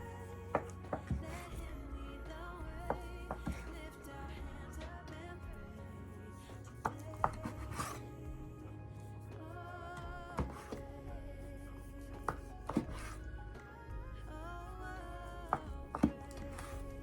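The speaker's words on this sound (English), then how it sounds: "we're gonna cut each one of these into thirds." A bench scraper cutting dough into pieces on a work surface makes sparse, quiet, sharp taps and knocks at irregular intervals over a soft low background hum.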